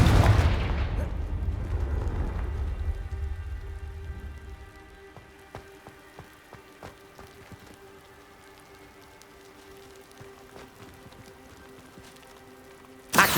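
A Confringo fire spell explodes in Hogwarts Legacy, a loud booming blast with a long rumbling, crackling tail that fades into scattered debris patters and quiet ambience before a final sharp hit at the end.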